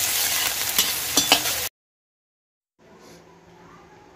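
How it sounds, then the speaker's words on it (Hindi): Green onions and chillies fry in a pan for a besan potato curry, giving a close, crackling sizzle. It cuts to silence partway through, and faint kitchen noise follows. "अभी अच्छे से भून जाने दो"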